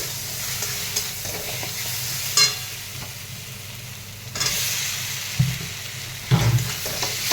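Spice paste with turmeric sautéed in a pan, giving a continuous close sizzle with occasional spatula knocks and scraping stirs, no voices.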